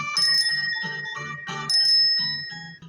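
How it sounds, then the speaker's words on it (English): Bicycle bell rung repeatedly in quick bright dings, a clear ringing pattern of several short bursts with lingering metallic tones, heard alone and close. "Bicycle."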